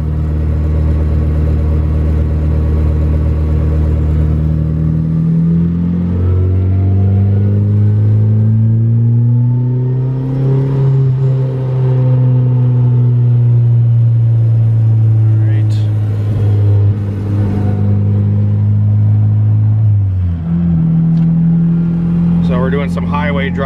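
A turbocharged B18 non-VTEC Honda Civic EK hatchback engine hums steadily from inside the car while driving, its drone rising and falling with throttle, under a person talking throughout.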